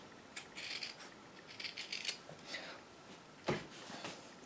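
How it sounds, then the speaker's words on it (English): Scissors cutting through fabric along double seam stitch lines, a series of quiet crisp snips and rustles with a sharper cut near the end, close and faint. "So we're just going to cut through the stitch lines as straight as we can."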